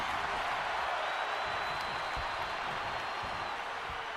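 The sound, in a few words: crowd cheering in WWE 2K26 video game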